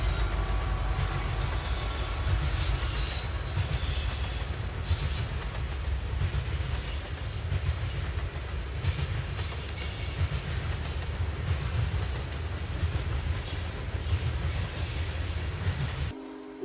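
A CSX freight train rolls past on Norfolk Southern tracks at Berea, Ohio, a steady, continuous rumble of wagons and wheels, moderately distant, with no talk.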